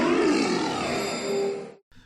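Necrozma's Dusk Mane form cry from Pokemon Ultra Sun and Ultra Moon is a single loud, harsh metallic roar lasting almost two seconds. It ends with a fading tail, and a brief faint echo follows.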